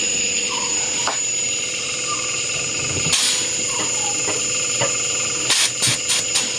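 The outdoor unit of a Panasonic air conditioner with an H11 error runs its compressor in a steady, close humming drone with a faint tonal whine, broken by a few sharp clicks and taps near the end.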